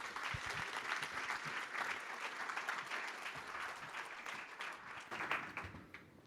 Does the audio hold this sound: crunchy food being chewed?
no